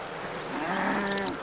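A single drawn-out cow moo, fairly close and clear, comes from cattle at a livestock auction. It rises and then tapers off over a steady low background murmur.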